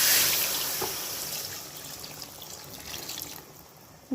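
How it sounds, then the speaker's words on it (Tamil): Water pours steadily into a pan of crab curry at close range, a soft continuous splash that gradually tapers off. "இப்போ இதில் இதுக்கு தேவையான அளவு தண்ணி சேர்த்துக்கணும்"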